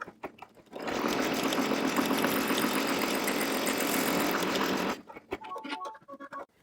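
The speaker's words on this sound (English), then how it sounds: "I'm ready to sew color number 1" An embroidery machine stitches the first color of a large nutcracker applique design, a steady loud mechanical whirring hum that starts after a second, runs for about four seconds and then stops, followed by faint clicks.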